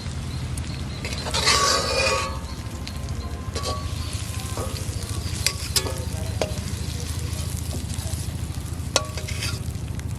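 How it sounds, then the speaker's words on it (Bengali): River tiger prawns fry in hot oil while being stirred, a steady close sizzle with a louder burst of crackling early on and scattered scraping clicks from the spatula throughout. "চিংড়িটা ভালো করে ভেজে নিছি এখন"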